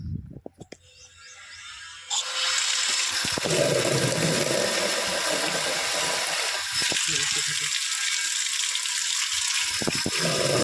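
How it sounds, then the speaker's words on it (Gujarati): Water is poured from containers into a cooking pot outdoors, a loud continuous rushing splash lasting most of the time after a few clanks at the start. "આપણે પાણી નાખી દઈએ"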